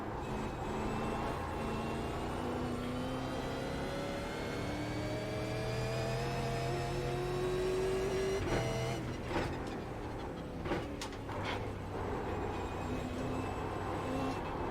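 A race car engine in the iRacing sim racing game drones steadily, its pitch climbing and falling with acceleration and shifts, loud and continuous, with a few brief clattering bumps near the end.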